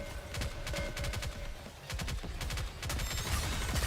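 Dense, overlapping gunfire from several weapons firing at once in the Honkai Star Rail video game, sustained rapid bursts of crackling shots throughout with short gaps.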